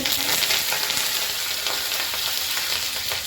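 Cumin seeds sizzle and crackle in hot oil in a pan with mustard seeds, a steady, loud frying hiss close up with no talk.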